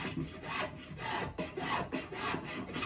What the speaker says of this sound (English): Using spoke shave is just so satisfying, getting those nice curls coming off of there